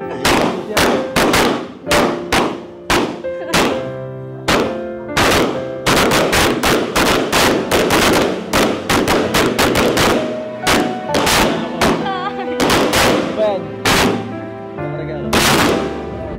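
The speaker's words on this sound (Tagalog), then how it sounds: "yan po yung fireworks na kung saan pinaghandaan po nila yan" A fireworks display bursts in a dense, continuous barrage of loud booms and crackling bangs, firing rapidly in irregular clusters for many seconds with little pause.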